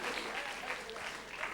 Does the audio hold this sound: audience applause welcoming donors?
yes